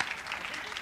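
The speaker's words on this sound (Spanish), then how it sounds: "¡Un aplauso!" Studio audience clapping on a talk show, a brief, even patter of many hands heard at moderate level.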